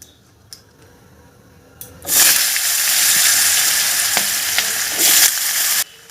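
Medium-sized potato pieces drop into hot oil: after a few faint clicks, a loud, hissing sizzle bursts up at once and holds steady, with a brief swell near the end before it stops.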